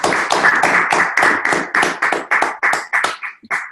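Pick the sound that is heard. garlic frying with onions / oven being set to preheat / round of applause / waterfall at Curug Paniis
round of applause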